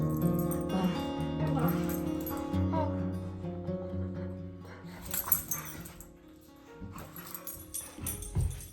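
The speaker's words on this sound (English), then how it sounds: "Don't mind the dog weird noises in the background." A dog makes odd whimpering, yipping sounds in the background while a person talks, the noises rising and falling irregularly.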